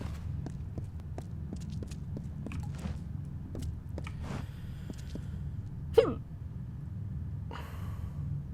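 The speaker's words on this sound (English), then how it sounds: "those hiccups were the painful kind" Several short, sharp hiccup-like bursts recur at irregular intervals over a low steady background, with a louder burst near the middle, in the action role-playing game Kingdoms of Amalur: Reckoning.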